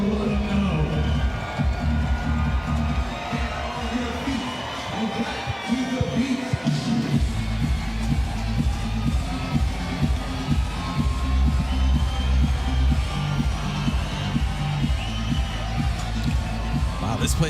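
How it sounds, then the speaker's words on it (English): A beach volleyball crowd at an all-Brazil major final in Fort Lauderdale cheers and roars loudly, with constant excited hubbub and a commentator talking over it. "The crowd getting excited, having a good time, trying to figure out which Brazilian team to go after."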